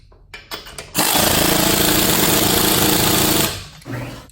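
Harbor Freight Earthquake air impact ratchet loosening a bolt, a loud rapid buzzing hammer for about two and a half seconds, with a few short taps before it and a fade at the end.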